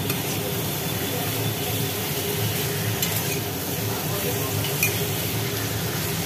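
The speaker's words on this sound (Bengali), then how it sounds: "এবার মশলাগুলো দিয়ে ভালো করে কষিয়ে নেওয়া হচ্ছে" Spices are stir-fried in a pan for a ridge gourd and potato curry, giving a steady sizzle with occasional stirring scrapes that runs throughout, moderately close, with faint talk in the background.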